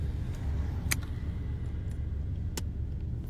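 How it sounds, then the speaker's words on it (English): A car driving through city streets toward Harlem, a low steady engine and road rumble inside the cabin with a few faint clicks and ticks over it. "we're just driving toward Harlem"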